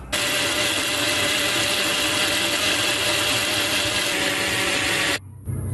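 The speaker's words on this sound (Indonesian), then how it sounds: "Ini kita blender dulu." A kitchen blender runs continuously on tomatoes, a loud steady whirring motor with a broadband roar that holds for about five seconds before cutting out abruptly near the end.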